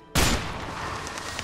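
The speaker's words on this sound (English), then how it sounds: "That's a sniper." A single loud sniper rifle shot rings out in the video game A Way Out, a sharp close crack followed by a short fading tail.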